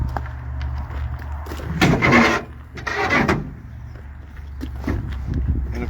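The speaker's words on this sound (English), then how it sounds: "Take this latch off on either side, and then it just pushes into place there." On a Kawasaki Mule Pro FXT 1000 utility vehicle, the seat latches are released and the seat is flipped up, giving two short scraping, rubbing bursts over a low background rumble.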